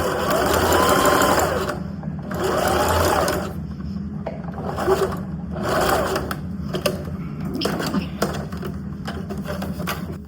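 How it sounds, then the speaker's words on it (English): A sewing machine stitching a seam on a small stuffed fabric gift, running in bursts of steady whirring hum, stopping and restarting several times, close and clear with faint handling clicks between runs. "Now I'm going to finish sewing that seam we started"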